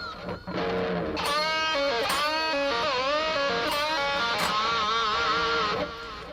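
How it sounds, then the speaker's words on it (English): Electric guitar playing squealing artificial harmonics picked with the thin edge of a plectrum, part of a solo: bright sustained high notes bending and wavering across several seconds, loud and close with no talking. "So you're using a very thin part of your plectrum to create artificial harmonic like this."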